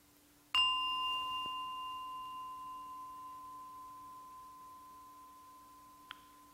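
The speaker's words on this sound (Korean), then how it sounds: "이 종소리를 해석하지 말고" A meditation bell struck once rings out in a quiet room, a clear pure tone that sustains and slowly fades over several seconds, with a faint small tap near the end.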